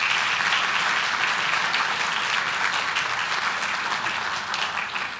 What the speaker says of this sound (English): Let's give them a round of applause for that.